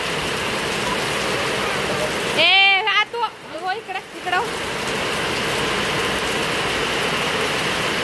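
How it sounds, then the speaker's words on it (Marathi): Heavy monsoon rain pours outside a hotel, a dense, loud, continuous roar; someone speaks briefly over it midway. "कसा पाऊस आहे, मुसळधार पाऊस."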